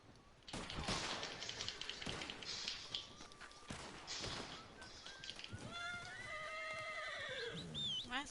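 Startled horse in Red Dead Redemption 2 whinnies loudly several times amid a burst of gunfire, its neighs rising and wavering in the closing seconds, with brief voices earlier.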